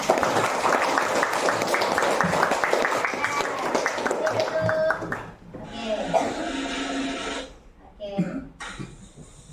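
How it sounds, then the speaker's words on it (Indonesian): Classroom of children clapping for three classmates, a lively burst of applause mixed with kids' chatter, fading and returning in short bursts. "Oke, tepuk untuk 3 orang teman kita."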